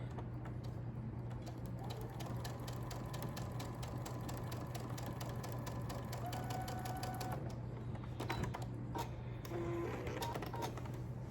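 A sewing machine re-sews a quilt seam, a quiet rapid stitching rattle over a steady low hum, pausing and restarting toward the end, faint and close with no voices.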